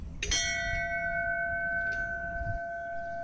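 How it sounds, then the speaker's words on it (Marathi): A bell at the entrance to the inner sanctum of an old Shiva temple is struck once, ringing out with a sharp attack and a long, steady, sustained tone. A fainter second strike follows partway through as the ring slowly decays. "तेथे घंटानाद करून मी पुढे गेले"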